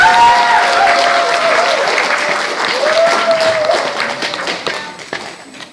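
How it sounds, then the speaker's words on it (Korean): Seminar audience at the National Assembly Library applauding, a loud, sustained burst of clapping that gradually fades toward the end, with a voice faintly audible over it. "조성환 교수님, 여러분 큰 박수 부탁드리겠습니다."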